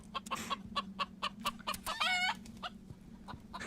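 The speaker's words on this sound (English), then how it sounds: "All of a sudden, heard chickens in my ears." Chickens clucking heard over a steady hum during an Aliens: Colonial Marines game session, with a string of short, repeated clucks at close range and one longer squawking call in the middle.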